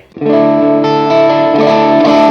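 Electric guitar played through a small M-VAVE Cube Baby multi-effects unit on a reverb and delay preset, sustained chords ringing loud and steady with a wet, spacious tail and no talking.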